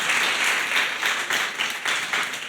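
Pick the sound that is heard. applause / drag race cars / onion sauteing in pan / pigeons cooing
applause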